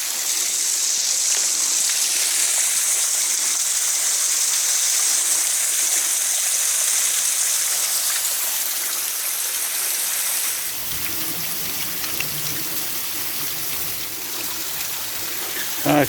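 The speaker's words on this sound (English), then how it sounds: "just beyond this windfall is the lovely waterfall" A waterfall beside the E&N Railway on Beaufort Slope, a loud, close, steady rush of falling water that drops a little in level partway through.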